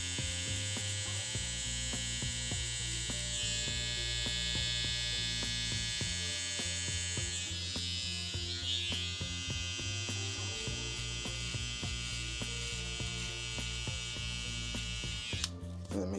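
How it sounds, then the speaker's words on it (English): An electric hair trimmer cutting hair during a haircut, a continuous close buzzing hum that varies slightly as it moves, with a brief clatter near the end. "I like to set the indent on the C cups with this trimmer."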